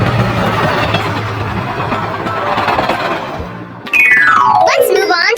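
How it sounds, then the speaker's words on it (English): A train sound effect from a children's alphabet lesson: a loud, continuous rumbling chug for about four seconds, then sliding, whistle-like tones over the rumble. "Train."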